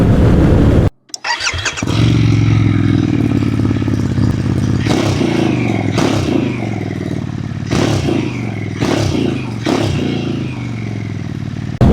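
A Harley-Davidson Pan America ST motorcycle engine with an aftermarket exhaust fires up and settles into a loud, deep, throaty rumble, with several sharp revs blipping above the idle, close by.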